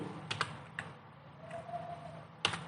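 A few quiet keystrokes on a computer keyboard, typing a search into Google, arriving as brief clicks near the start and a short burst near the end, with soft room hum between.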